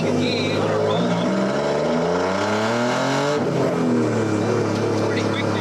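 A tuned Toyota GR Yaris with big cams and a dog-box accelerates hard in second gear, its engine note climbing steadily loud and close, with a brief dip at a shift before rising again.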